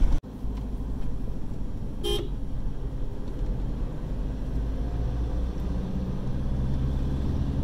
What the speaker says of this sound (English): So honking in Haiti isn't rude. People honk all the time.